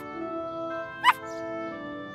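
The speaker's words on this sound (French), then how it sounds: "Quelqu'un aboie." A small cartoon dog gives one short, high yip in the middle of a soft, sustained musical tone, with nothing else around it.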